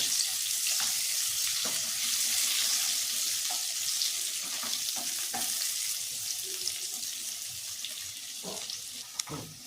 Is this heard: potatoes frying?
yes